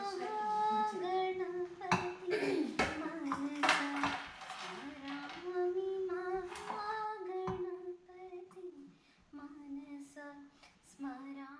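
Peanuts and jaggery pounded by hand for a sweet give sparse, sharp, knocking thuds under steady talking from a nearby voice.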